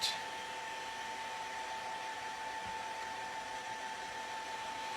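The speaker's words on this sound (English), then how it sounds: "I'm just going to dry this with the hairdryer a little bit" A hair dryer drying ink on a D&D ice golem model blows steadily at close range, a constant airy roar with a faint motor whine, starting abruptly and running without pause.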